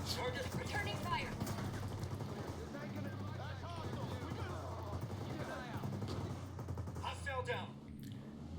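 Gunfire from a tactical shooter video game set in Ghost Recon Breakpoint, dense bursts of shots and rattling fire throughout over a low rumble, with voices talking over the firefight.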